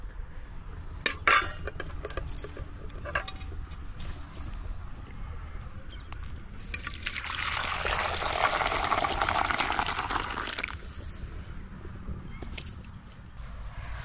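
Herbal rasam poured from a clay pot into another vessel, a soft steady stream of liquid splashing for a few seconds after some faint clinks of cookware, close and moderately quiet.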